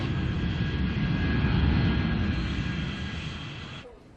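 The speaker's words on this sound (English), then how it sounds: "It's our first flight coming in, United from Chicago." A United passenger jet arriving from Chicago lands at Heathrow, its engines producing a loud, steady broadband roar that swells and holds, then cuts off abruptly near the end.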